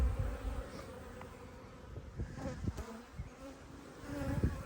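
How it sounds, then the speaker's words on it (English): Honeybees swarm around open hives with their roofs lifted off at an apiary near buckwheat, a dense continuous buzz close by, with scattered thumps and handling knocks. "every single one is completely full of bees here"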